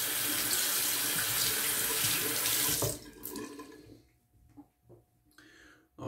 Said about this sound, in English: when you're rinsing under the sink, have your blade like that and let the water go down